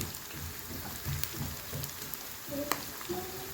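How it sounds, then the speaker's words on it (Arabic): Onions are stirred and fried in a pan on a gas stove until they brown, giving a steady hissing sizzle with occasional scrapes and clinks. "بفضل بقى اقلب فيه كده لحد ايه ما يحمر معايا وياخد اللون الحلو"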